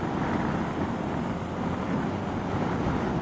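Strong, steady wind roaring over the microphone on a road trip from Langley to Quesnel in June, a continuous loud broadband rush with no pauses.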